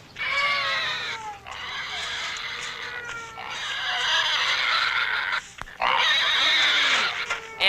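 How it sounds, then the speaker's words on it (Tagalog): Pigs being fed, sounding as continuous loud squeals and grunts, with brief pauses between strained, wheezing bursts that rise again toward the end. "Pakanin mo na yung baboy."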